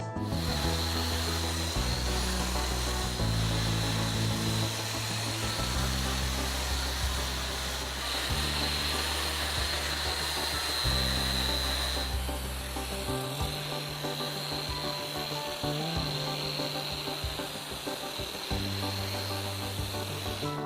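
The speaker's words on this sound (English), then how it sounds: "gonna go ahead and vacuum grind this area to get all this excess off each side" A vacuum grinder removes excess crack-weld material from both sides of a cut in concrete, giving a continuous loud whirring grind with a steady high tone and a fluctuating low motor rumble for about twenty seconds.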